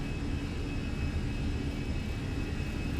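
Jet airliner engines at takeoff power in Microsoft Flight Simulator, a steady dense roar with a thin high whine running through it, loud and unbroken with no talk.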